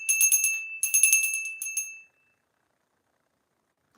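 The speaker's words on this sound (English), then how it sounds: "Should we ring a bell for Jasper?" A small ringing bell, like a bicycle bell, chimes in three quick clusters of bright metallic rings, close and clear, then falls silent.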